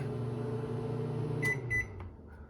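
A Samsung 30-inch 1.9 cu. ft. over-the-range microwave oven hums steadily, then stops with a few short beeps and a click as it finishes.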